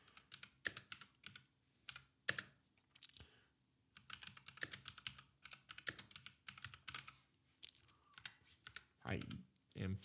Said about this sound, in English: I am fat fingering my keyboard like crazy.